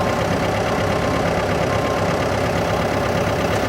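A 1965 International TD6 diesel dozer engine runs at a steady, loud, rough idle, a dense continuous rumble with knocking pulses and no pauses, heard up close.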